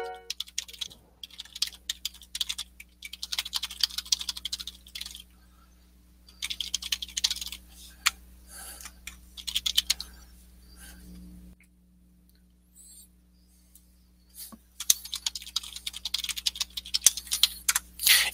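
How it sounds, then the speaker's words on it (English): Computer keyboard typing in bursts of rapid, close clicking and tapping with brief pauses between runs, over a faint steady hum. "So Betty, I'm typing this in right now."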